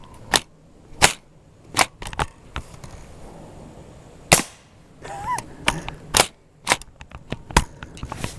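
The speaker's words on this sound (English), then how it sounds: "the suppressor had no problem whatsoever with subsonic 300 blackout" Suppressed subsonic 300 Blackout rifle fired repeatedly, sharp muffled cracks in irregular bursts with mechanical clatter between shots, close and fairly loud.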